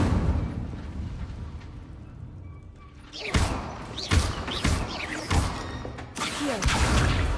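Bursts of a fire spell cast in the Hogwarts Legacy video game: several sharp whooshing, crackling blasts with thumping impacts, loud and close, repeating in quick succession.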